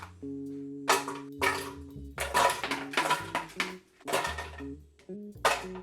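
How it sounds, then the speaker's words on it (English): About a dozen ice cubes dropped into a blender, several sharp clattering knocks and clinks in irregular bursts, close and fairly loud, with no voices. "So I've got about 12 ice cubes in there."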